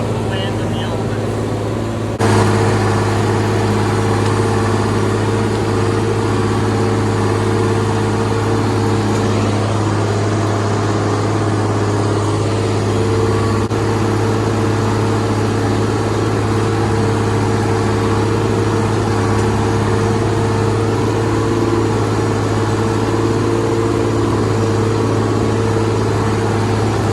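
A John Deere 7520 tractor runs steadily in a cold open field, its engine a loud continuous drone with strong low hum throughout, starting abruptly after a brief quieter moment.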